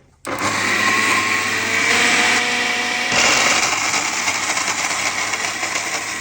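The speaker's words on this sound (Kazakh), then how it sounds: "Жаңғақтың бәрін блендерден өткізіп алдық." A blender starts abruptly and runs loudly, grinding nuts, its motor whirring and grinding steadily, with the pitch shifting slightly as the nuts break down.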